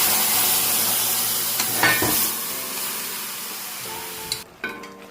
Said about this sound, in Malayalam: നമുക്ക് ഇതിലേക്ക് നമുക്ക് വേവിച്ച് വെച്ചിരിക്കുന്ന മുതിര ഇട്ട് കൊടുക്കാം.